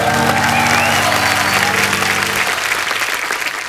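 Studio audience on a comedy talk show applauds loudly after a celebrity performance, thick continuous clapping with a sustained musical tone underneath that fades out partway, the applause then easing slightly.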